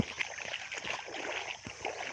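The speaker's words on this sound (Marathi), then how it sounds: "हे बघा पाणी मित्रांनो" Water flows on a farm with a soft, continuous gurgling rush, faint and steady, alone without talk.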